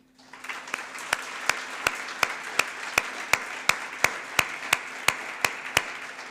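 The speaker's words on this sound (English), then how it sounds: "Could you all please join me in a final round of applause for our speakers, panelists, your engagement, and our event and venue teams" Closing-session audience at a conference venue claps in steady rhythmic unison, about three sharp beats per second over a softer bed of applause, loud and close, with a low hum throughout.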